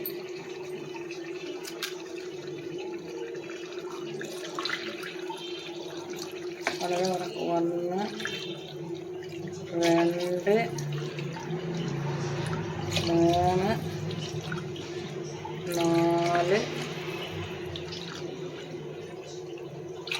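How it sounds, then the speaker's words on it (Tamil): Tumblers of water are poured one after another into a pressure cooker for chicken biryani, giving four splashing pours a few seconds apart over a steady low hum while a person talks. "ஆறரை டம்ளர் தண்ணி சேர்த்துருக்கோம்"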